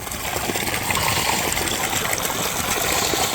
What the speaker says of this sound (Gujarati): હા પાણીનો અવાજ છે.